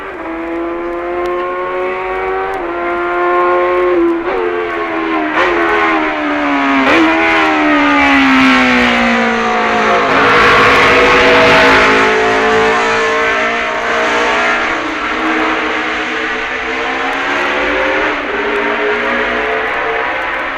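Racing motorcycles at the 1965 Isle of Man TT road race roar loudly and close, engine pitch rising and falling as they accelerate and shift, a sustained, snarling pass lasting many seconds.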